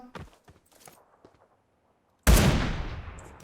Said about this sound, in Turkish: Vuruyor birilerini ama.